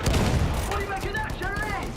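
Suppressing gunfire in the WWI shooter Battlefield 1, with dense overlapping rifle and machine-gun bursts crackling in rapid volleys while voices shout over the battle.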